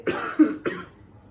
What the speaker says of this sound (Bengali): দেখা যায় একটু পরপর কাশি আসে